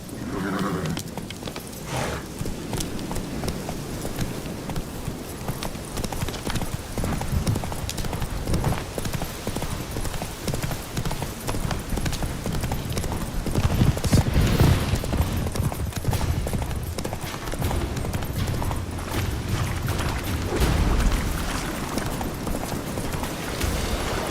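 Roach the horse gallops in The Witcher 3, a long run of rhythmic hoofbeats close by with an occasional whinny, steady and loud.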